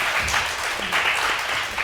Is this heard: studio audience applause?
yes